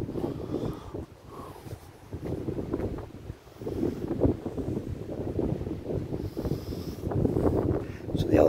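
Hot wind blows outdoors, buffeting the microphone in a steady low rumble with gusty swells, loud and close, over several seconds.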